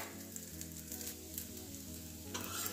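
Cabbage paratha fries in a pan, a steady close sizzle running throughout with a brief louder burst near the end; no one speaks.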